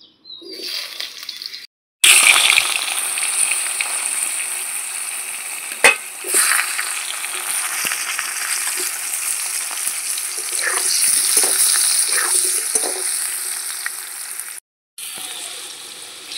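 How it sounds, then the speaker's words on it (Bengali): Potatoes sizzle in hot oil in a home kitchen pan, a steady loud frying hiss with occasional stirring clatter, interrupted by two brief silent gaps. "এখন আলুগুলো ভেজে নেব।"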